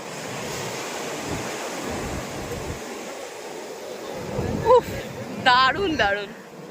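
Sea waves wash steadily onto the beach at Puri with a constant surf roar and wind buffeting the microphone, while people's voices rise in the last couple of seconds.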